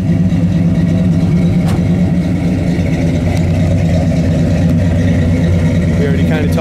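A 1968 Chevelle V8 rumbling through angled chrome exhaust tips, a loud, steady, throaty low-pitched engine drone close by, with a person talking over it.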